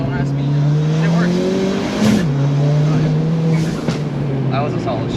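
A turbocharged sleeper car accelerates hard with a loud, rising engine note inside the cabin, dips briefly through a quick gear shift and then pulls on again, with boost whoosh over the road noise.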